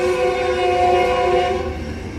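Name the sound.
Metrolink passenger train passing with horn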